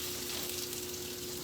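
Potatoes for corned beef hash sizzle and crackle steadily in a hot pan, a constant frying hiss with no talking.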